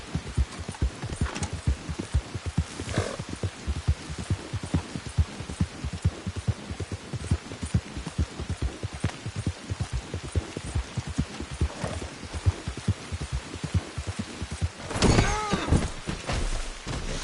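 A horse gallops in Red Dead Redemption 2, hooves drumming in a fast, steady rhythm for the whole stretch, close and fairly loud, with a brief surge of louder noise near the end and no talk.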